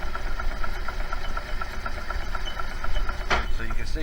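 A golf cart starter motor turns the engine over in a steady, rapid mechanical chug with a constant low rumble and rhythmic knocking, close by, with a brief louder clunk near the end.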